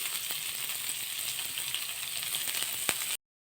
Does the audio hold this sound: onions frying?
yes